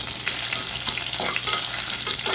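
Green chilies and spices sizzle and fry in hot oil in a pan, a steady crackling hiss with small pops and stirring scrapes, close and continuous with no talking.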